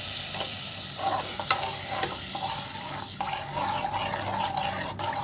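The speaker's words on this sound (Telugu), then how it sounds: "చూడండి, ఇప్పుడు బాగా ఫ్రై అయింది కదా." Curry ingredients sizzle steadily in a pan while a spoon stirs and scrapes through them, a close, continuous frying hiss with occasional clinks and no talking.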